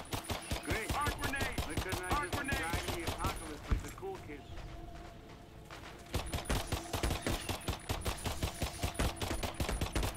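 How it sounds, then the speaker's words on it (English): Rapid pistol gunfire in the video game Earthfall, sharp evenly spaced shots crackling in dense bursts at the start and again near the end, with a quieter gap in between and voices talking underneath. "the pistol sounds super good now"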